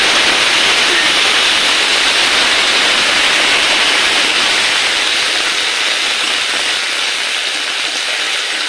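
Hot oil hisses and sizzles loudly in a pan as a paste of ginger and green chili is added, a dense, steady, close spitting roar that eases only slightly.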